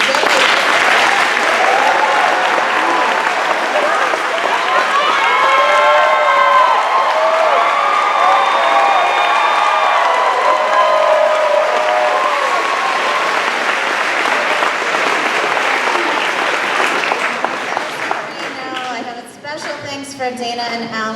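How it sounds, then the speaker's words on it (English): Loud, sustained applause and crowd cheering at a class induction ceremony honoring the Southwest Region staff, holding steady before thinning out near the end, with a voice briefly heard. "let's give them a round of applause"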